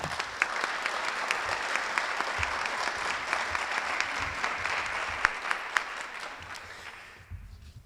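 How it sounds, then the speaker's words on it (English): Audience applause at a Plano ISD Leadership & Ambassador Program graduation ceremony, a steady wash of many hands clapping from a sizable crowd that holds at an even level for several seconds before tapering off at the end. "Please give yourselves a well-deserved round of applause."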